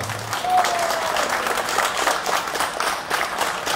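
Audience applause at a Virade charity results announcement and prize draw in Montivilliers, honouring the Boulanger team: a dense, steady wash of many hands clapping at once, loud and sustained throughout.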